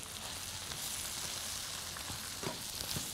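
Salt, black pepper, dried coriander, ginger, turmeric and cinnamon sizzle and crackle in a hot pan, a steady frying hiss with occasional scraping taps as the mixture is stirred.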